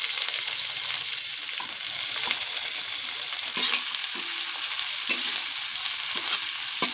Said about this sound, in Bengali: পেঁয়াজটাকে ভেজে নরম করতে হবে